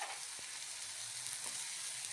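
Soft, steady sizzling of blended tomato puree frying in a pan, a continuous hiss with a couple of faint taps, no voices.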